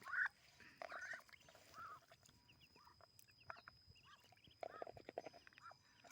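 Ducks and small ducklings being fed and given water, scattered quacks and peeping calls rising in short bursts over a quiet background, fairly near and soft.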